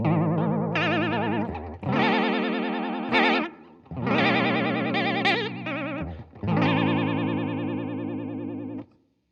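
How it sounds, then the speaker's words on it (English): Electric guitar played through a JHS Artificial Blonde vibrato pedal with depth and speed at maximum, giving a fast warbling, wobbling pitch in several sustained phrases separated by short gaps. "let's bring the speed all the way up and we'll just get as weird as we possibly can get with this pedal."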